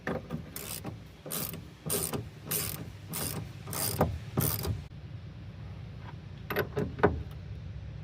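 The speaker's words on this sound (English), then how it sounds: "Put this bolt on, tighten it with a ratchet." A hand ratchet tightens a bolt on the idler arm of a 1997 Suzuki Carry: about seven quick, evenly spaced bursts of clicking, followed after a pause by a few short, lighter clicks.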